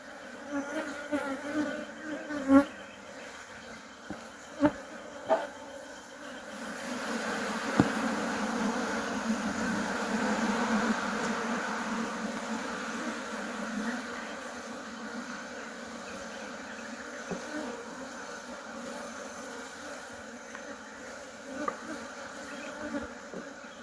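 Honey bees buzz steadily around a healthy hive in Nigeria, a dense close hum with occasional louder individual bees passing near, and no talk.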